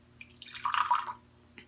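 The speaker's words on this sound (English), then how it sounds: "we're going to pour it into the glass" Mountain Dew soda poured from a can into a glass gives a brief, close splashing fizz that rises and fades within about a second, alone in a quiet room.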